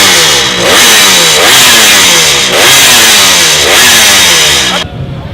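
A vintage three-cylinder motorcycle at a dealership opening event, its engine running close and loud in repeated revving surges that rise and fall, stopping abruptly near the end.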